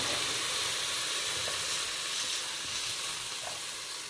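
Water poured into sizzling spice paste for a fish curry, a loud, dense, steady hiss of frying and steam that continues throughout without talk.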